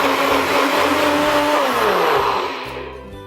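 A kitchen blender churns pumpkin and pistachio milk with cardamom and saffron, a loud, steady whirring roar that lowers in pitch partway through and fades slightly near the end, with no talking.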